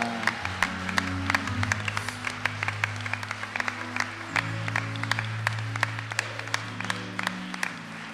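A church congregation claps in sharp rhythmic beats alongside sustained music, moderately loud and steady throughout, with no talking heard.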